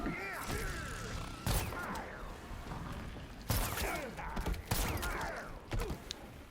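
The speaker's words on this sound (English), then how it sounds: "the gunshots coming through from Joker" Joker's gunshots in a Mortal Kombat 11 fighting game match, several sharp loud bursts at irregular intervals over busy game effects and background sound.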